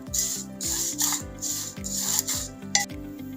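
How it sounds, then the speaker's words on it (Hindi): Vermicelli being stirred and roasted in a pan for a sweet zarda dessert, a repeated scraping and rustling with regular strokes, close and fairly loud. "अब इसको भून लूँगी मैं, तकरीबन 5 से 8 मिनट तक इसको भून लेंगे हम।"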